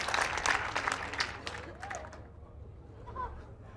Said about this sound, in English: And thank you for the applause.